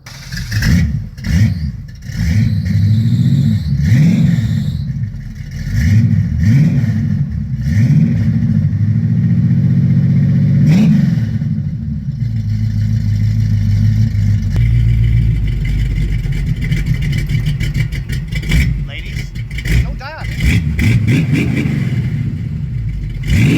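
A 1986 Chevrolet Monte Carlo SS, a G-body car, cranks over in a few choppy bursts, then fires and settles into a rumbling run with occasional blips of revving, heard close up.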